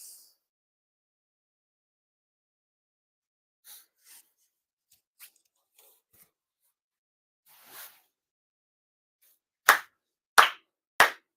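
Sharp ritual hand claps at a Shinto end-of-year purification ceremony, three loud distinct claps near the end after a few faint rustles and soft taps in an otherwise quiet space.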